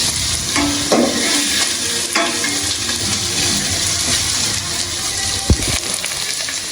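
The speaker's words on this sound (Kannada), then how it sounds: "ಈರುಳ್ಳಿ ನೀಟಾಗಿ ಫ್ರೈ ಮಾಡ್ಕೊಳ್ಳಿ. Full golden brown ಬರೋವರೆಗೆ." Onions fry in hot oil in a pan for a spicy egg dry roast, a steady close sizzle broken by a few clanks of a spoon stirring against the metal, continuous and fairly loud with no voices.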